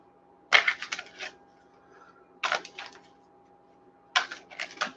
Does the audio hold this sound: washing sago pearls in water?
no